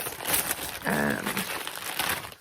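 A plastic bag holding beverage packets of coffee, hot chocolate and tea crinkles up close in loud, rustling bursts, with a sharper squeaky crackle in the middle of the handling.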